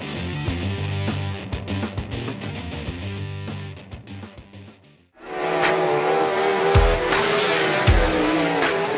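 410 winged sprint cars race on a dirt track in iRacing, engines roaring loud and continuous, with a sharp shift midway from busy music-like tones into a dense, sustained engine roar.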